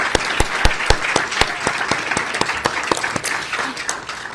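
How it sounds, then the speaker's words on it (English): At a city address in White Rock, the crowd gives the mayor another round of applause: close, vigorous clapping with strong distinct hand strikes over a busy wash, holding steady for several seconds. "Another round of applause for the mayor."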